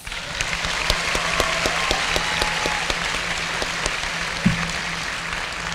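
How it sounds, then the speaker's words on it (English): Sustained audience applause fills a high school graduation ceremony at Southside High School, a steady, even wash of many hands clapping throughout, with no talking over it. "Please give them a round of applause."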